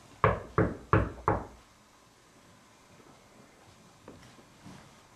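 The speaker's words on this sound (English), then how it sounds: "Can you knock like this?" Four sharp, loud knocks on a surface at the Jackson-Dunn House during a paranormal investigation, evenly spaced in quick succession, followed by a quiet room with only faint distant rustles.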